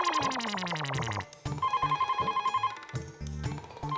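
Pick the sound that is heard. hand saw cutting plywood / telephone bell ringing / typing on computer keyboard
telephone bell ringing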